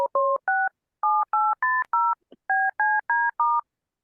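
Telephone keypad tones beep in a quick sequence of about a dozen short, clean two-note presses with brief gaps, loud and close, with no talking.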